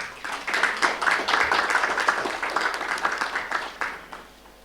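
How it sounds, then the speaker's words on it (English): An audience applauds a panel at a conference session in Bangalore, steady overlapping clapping from a sizable crowd that holds throughout and tapers slightly at the end. "may I request you to please applaud the panel and join"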